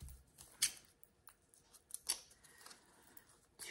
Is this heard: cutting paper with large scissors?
yes